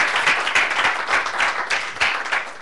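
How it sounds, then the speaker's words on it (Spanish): Church congregation applauding steadily, a dense wash of many hands clapping close and loud with no talking over it. "denle un aplauso al Señor."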